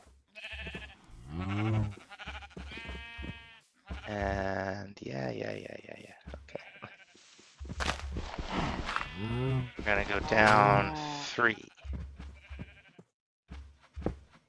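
Cows in the Minecraft FTB One modpack give short, low, blocky moos and bleat-like calls scattered among frequent narration, each sound brief and close, with someone talking over and between them.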